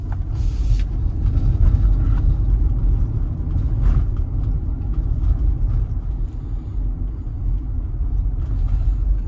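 A 2024 Tesla electric car cruises along a highway, giving a steady loud low road rumble and tyre noise throughout with no talking.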